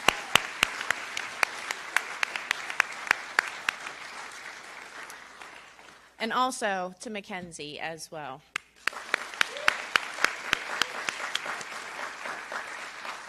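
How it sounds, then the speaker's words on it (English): At a 2018 high school graduation, the audience applauds the student speakers with steady, dense clapping that gives way to a brief spoken line before the applause returns with scattered sharp claps. "can we give another round of applause to Luca for his inspiring,"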